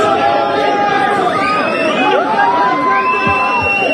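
A crowd cheers and chatters loudly at night, with overlapping excited shouts and whoops rising and falling close by, mixed with general hubbub.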